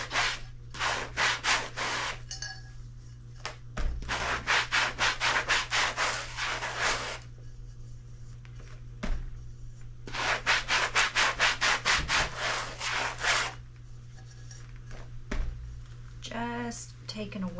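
A resin-coated vase is hand-sanded in close, rapid back-and-forth bursts, several runs of scratchy rubbing separated by short pauses.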